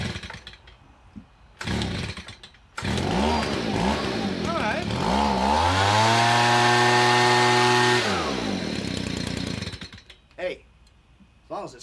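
A Stihl SH85 two-stroke engine sputters with a couple of short bursts, then catches and runs at a high, steady buzzing whine for several seconds before cutting out, close and loud.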